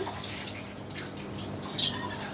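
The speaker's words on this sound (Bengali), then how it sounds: "দেখো আমার জলটা গরম হয়ে এসেছে। জলটা ফুটে গেছে।" Water at a rolling boil in a pot for pasta, with a constant close bubbling and churning hiss and small pops throughout, and no speech.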